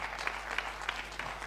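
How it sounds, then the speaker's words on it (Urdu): An audience claps steadily after an Urdu poetry recitation, a dense patter of hands with small rhythmic swells and no talking. "تالیوں سے مجھے رخصت کر دیں"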